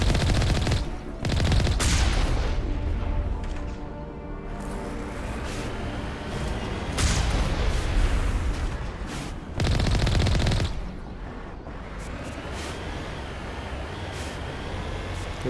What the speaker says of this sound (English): Wow, and they survive a shot from the Mako cannon.